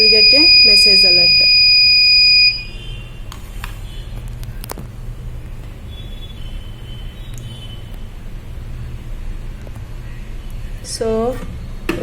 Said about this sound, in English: the soil moisture sensor detects urine, so that's why buzzer is alerting